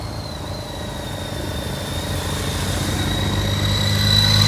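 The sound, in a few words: motorcycles arriving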